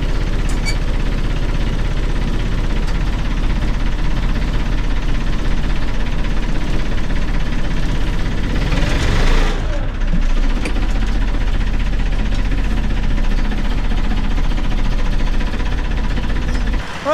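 A grain rolling machine runs to process feed for cows, giving a loud, steady mechanical drone with a constant low rumble and rattling that continues throughout without a break.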